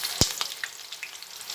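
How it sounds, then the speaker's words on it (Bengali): Taro pakoras sizzle in hot oil with a steady, close crackle, and one sharp clatter comes early. "প্রত্যেকটা গাঠি কচুর পকোড়া তেলের মধ্যে দিয়ে ভেজে নিচ্ছি।"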